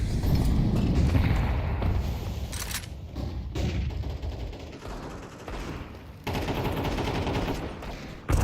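Pistols fire in a Counter-Strike round, a string of loud, close gunshots and rapid bursts with rumbling booms, filling the whole stretch with hardly a pause.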